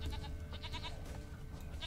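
A goat bleats in The Witcher 3 beside a farmhand in a wooded area, a few short, repeated bleats over steady in-game ambience.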